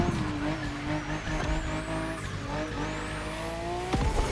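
In The Crew Motorfest, a Delage D12 race car slides across grass with a high, steady engine whine and rising pitch, scraping and skidding noises cutting in near the end, all close and loud without talk.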